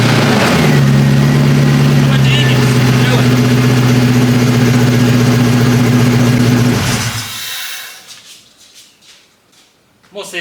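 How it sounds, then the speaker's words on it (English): A Jeep Grand Cherokee WJ engine runs loudly up close with a steady, droning idle. It cuts off abruptly after about seven seconds, leaving faint knocks and rustles. "My prediction, if I turn the key on, it'll crank right up."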